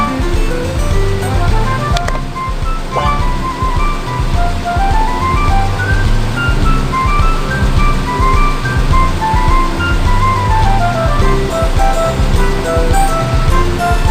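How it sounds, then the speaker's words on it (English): Water rushes steadily into a fire truck's tank in a kids' cartoon fire-service game, a loud continuous gushing layered with a bright, looping game melody throughout. "Let's fill the fire truck with water."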